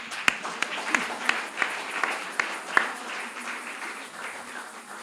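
A church congregation applauds after being invited to clap for itself, a sparse, fairly faint patter with a few sharper claps standing out near the start, tapering into a soft rustle of the room.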